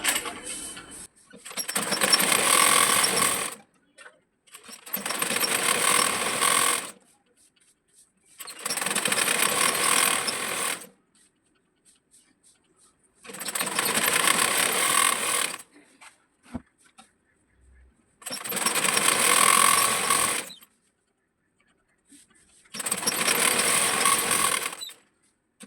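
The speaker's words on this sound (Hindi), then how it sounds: "पहले मैं डोरी सिलती हूँ" A sewing machine stitching a drawstring for a six-panel petticoat, running in six steady bursts of about three seconds each, separated by short quiet pauses, loud and close.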